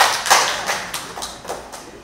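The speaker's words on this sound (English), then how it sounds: "Give me a round of applause." A church congregation claps during a sermon, with sharp hand claps falling in a steady rhythm about four times a second. The claps start strong and gradually grow softer.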